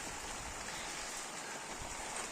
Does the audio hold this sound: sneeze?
no